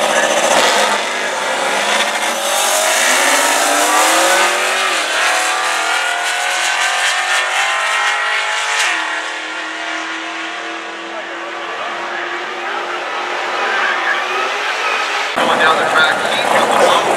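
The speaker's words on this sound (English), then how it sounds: "Takes a Chevelle down to the top end." A Chevrolet Chevelle makes a drag strip pass toward the top end at Hot Rod Drag Week in Byron, Illinois. The engine roars loudly and climbs in pitch through the gears, then fades into the distance. An announcer's voice comes over the crowd noise.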